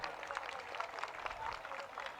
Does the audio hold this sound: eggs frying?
no